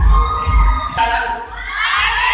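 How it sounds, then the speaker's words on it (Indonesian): Audience at an Indonesian beauty festival stage event cheering and clapping for a guest being welcomed, a loud crowd roar with whoops and shouts rising through the moment. "Minta tepuk tangannya untuk"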